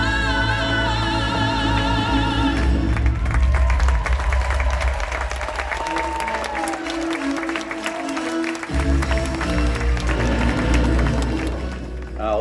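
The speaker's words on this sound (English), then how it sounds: "They are going to go ahead and take their bows, and some in the audience are even standing to applaud them." An audience at a live Festival of the Lion King stage show applauds the cast's bows with sustained clapping and some cheering, while music plays loudly alongside and the level stays high throughout.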